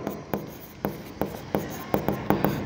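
Chalk or a marker taps and scrapes on a board in a regular rhythm of short strokes as net profit figures for a bank's final accounts are written out, close and fairly crisp.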